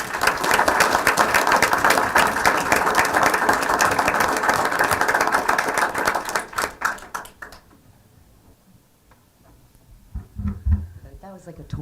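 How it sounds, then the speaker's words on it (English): Loud, dense applause from an audience at a school board meeting, honoring a wrestling team, fills the first seven seconds, then tapers off into near quiet before murmurs and a few voices rise at the end. "Round of applause for all of them"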